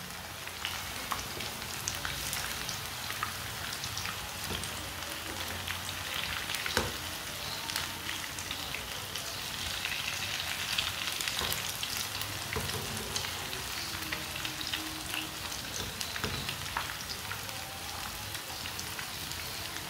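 Aloo palak pakoras fry in hot oil, a steady dense sizzle and crackle with scattered sharper pops, close and continuous, with no talking.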